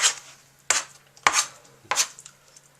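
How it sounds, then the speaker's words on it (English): A knife chops food on a cutting board for a raw-food dish of earth's caviar, four sharp separate strikes spaced about half a second apart, close and clear with no talk, over a faint steady hum. "I like to do it with a knife because I can have more control of what I'm doing."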